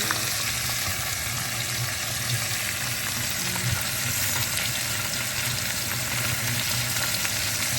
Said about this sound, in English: You want a good sear on both sides.